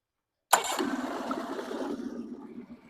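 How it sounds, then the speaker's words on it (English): A Yamaha 9.9 HP four-stroke outboard motor with a newly replaced impeller, run in a garbage can of water, cranks and catches abruptly, then settles into a steady, close, rumbling idle with no talking. "So if you want to go ahead and start it up, and we'll see how it works."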